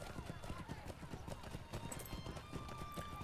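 Galloping horse hooves in the online game Lord of the Rings Online: rapid, steady hoofbeats drumming close and continuous, with a faint tonal game ambience above.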